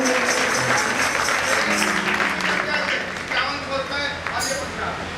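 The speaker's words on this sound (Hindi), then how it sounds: "एक बार जोरदार तालियों से स्वागत करेंगे।" A crowd at a village devotional gathering applauds to welcome the local head, producing a steady wash of clapping that fades slightly toward the end, with a voice speaking over it.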